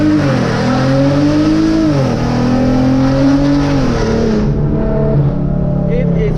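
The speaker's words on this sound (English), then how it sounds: "So now let's do some full throttle pulls here. I got it in first gear in manual mode," Hyundai Genesis Coupe with NGM headers at full throttle in first gear, a loud raspy exhaust climbing steadily in pitch, briefly dipping at a shift point, then pulling hard again close to the listener.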